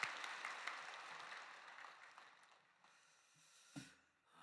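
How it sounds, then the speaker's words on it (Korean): A church congregation claps during a Sunday worship service, a broad, fairly faint wash of applause that gradually dies away, ending with a soft knock or two. "하나님께 영광의 박수 함께 올려드립니다."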